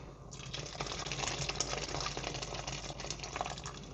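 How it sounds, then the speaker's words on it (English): Water gushes steadily into a cooking pot of lentil and pork stew, a continuous close splashing and filling sound lasting several seconds without speech. "Looks like I can put more some water."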